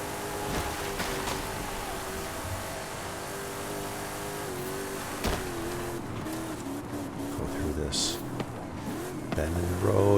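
A Lamborghini Centenario and an RJ Anderson Pro 2 truck driving in a video game, steady engine drone with rising and falling revs throughout, under continuous talking.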